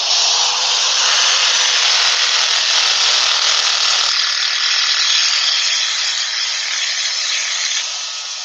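Sandpaper pressed against a part spinning on a big lathe, worked through to the final fine grit: a steady, loud, continuous abrasive hiss and whir with faint ticking, easing slightly toward the end.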